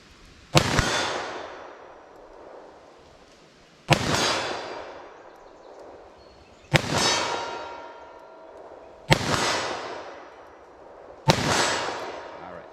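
Snub nose revolver shots fired with Hornady Critical Duty ammunition strike a steel target: five sharp cracks a few seconds apart, each followed by a ringing clang that fades slowly, heard alone without talk.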